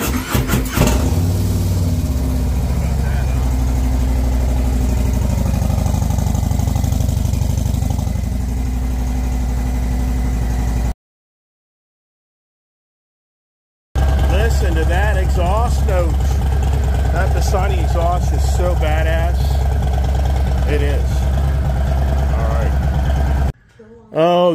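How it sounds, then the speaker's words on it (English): Harley-Davidson CVO motorcycle engine cranking and catching, then settling into a loud, close idle with a few revs after a short silent gap. "Let's see if she starts."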